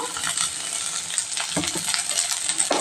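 Asafoetida powder dropped into a sesame and cumin tempering frying in oil, a continuous close sizzle broken by a few light clinks and stirring scrapes, no voices.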